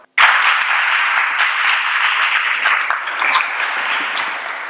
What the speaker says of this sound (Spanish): Ahora les damos a ellos un aplauso.